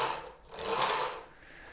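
Knittax knitting machine carriage slid across the needle bed, a single smooth rasping swoosh that swells and fades over under two seconds, close and alone.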